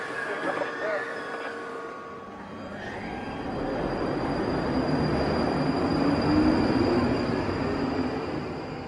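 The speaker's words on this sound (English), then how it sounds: "Train on the platform now." A London Underground Northern Line train at a station platform, with a broad rumbling roar of wheels and motors that swells louder through the middle and stays close, plus a thin high whine and faint squeal above it.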